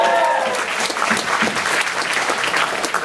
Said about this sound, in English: Give a hand for all the great performers earlier on today.